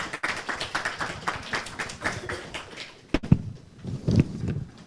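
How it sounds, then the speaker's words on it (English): Audience at a CFO and finance strategy awards event applauds the panelists, a scattered round of hand claps, uneven and fairly close, with some thumps and a brief voice toward the end. "A round of applause for the panelists."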